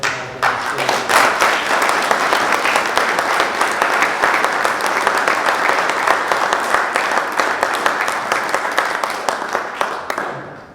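Sustained audience applause at an annual general meeting of a 16mm association, a dense roomful of clapping that holds steady for about ten seconds before tapering off.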